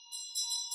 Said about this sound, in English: and then you ring the bell.